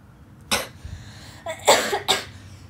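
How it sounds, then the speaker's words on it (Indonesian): A woman coughs in three short, sharp bursts, one alone and then a closer pair, with quiet pauses between them. "Tuh, batuk-batuk aku."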